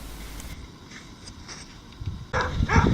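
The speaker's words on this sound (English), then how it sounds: "It looks like the dog over there has just spotted me." A dog barks at a distance outdoors during metal detecting, the sound rising in a short burst near the end over steady background noise.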